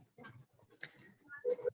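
Light tapping on a computer keyboard while editing website text, quiet irregular clicks in small bursts, close up and with no voices.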